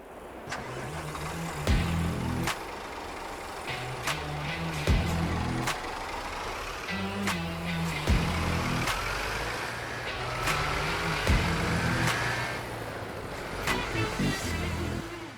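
Bus engine in Euro Truck Simulator 2, a steady mid-pitched motor hum with repeated sharp clicks and shifts in level, heard alone without talk.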